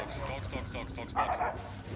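A dog in the Hunt: Showdown video game gives a short bark and yip beneath someone talking.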